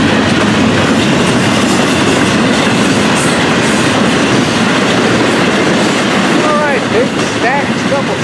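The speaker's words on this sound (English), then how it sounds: "Big stacks, double stacks on this hot train." A long double-stack freight train rumbles past close by, loud and continuous with clattering wheels and a brief squeal near the end.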